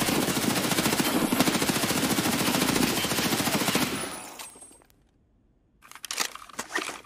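Rapid automatic gunfire in the shooter game Escape From Tarkov, a loud sustained burst of shots that cuts off abruptly, followed by a near-silent pause and then a few scattered clicks and impacts.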